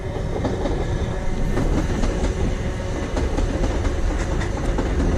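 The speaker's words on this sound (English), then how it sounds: "Sorry for the trains, but that's what happens, I suppose, when you fish under a railway line." A train rolls across a railway line overhead, a steady loud rumble with rhythmic clickety-clack of wheels over rail joints, heard from below the line at a fishing spot with no talking.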